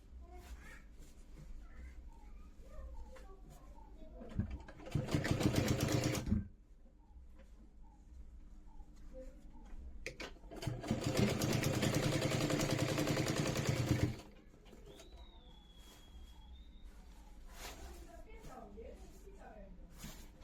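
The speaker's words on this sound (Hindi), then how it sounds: "और यहाँ पर अब स्टिचिंग कर देंगे इसकी।" Sewing machine stitching a pair of straight-cut ladies' trousers, with two loud sustained runs of rapid mechanical whirring separated by quieter pauses filled with small handling clatter.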